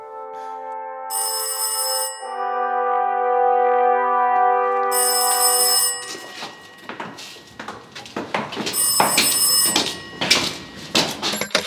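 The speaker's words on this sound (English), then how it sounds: "I think I'm hearing a phone call." A telephone ringing with repeated electronic bell-like tones, loud and near, with other clattering and knocking sounds joining in the second half.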